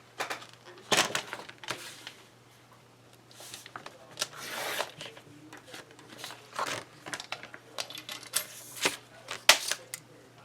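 A thin strip of paper being cut for a handmade card, heard as close, irregular snips and soft papery rustles and taps in a quiet room.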